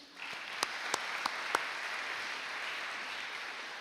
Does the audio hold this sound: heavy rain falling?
no